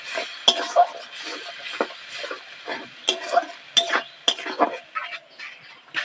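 Spice paste loosened with its rinsing water is stirred and fried in a pan for a dried cabbage curry, with soft sizzling under irregular scrapes and light clinks of the spoon against the pan.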